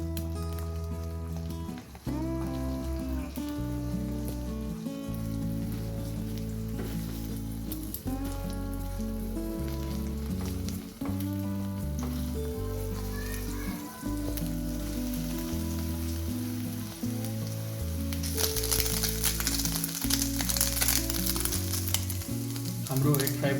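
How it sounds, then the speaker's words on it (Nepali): Cracked eggs fry in a hot pan with salt for Nepali-Chinese chicken fried rice. A continuous crackling sizzle runs the whole time beneath steady background music and grows louder near the end. "अब जुन फुटाएको अन्डा छ त्यो अब म यसमा हाल्छु।"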